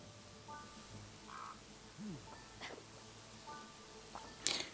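Bird cawing in the Wild West video game El Hijo, a few short crow-like calls scattered over quiet ambient game sound, with a sharper, louder call near the end.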